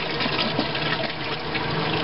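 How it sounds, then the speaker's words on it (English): A toilet test flush after plumbing work, heard as a steady, loud rush of draining and refilling water close by, with no talking. "we do a test flush here."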